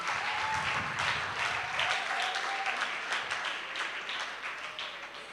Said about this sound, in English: Can we have a round of applause for our finalists?